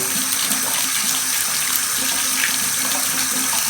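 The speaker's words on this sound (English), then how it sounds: "Hopefully this produces hot water." Hot water runs steadily from a shower or sink faucet, a constant close hiss and splash with no pauses.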